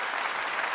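Steady applause-like clapping fills the whole moment at an even level, a dense wash of hand claps with no voices over it.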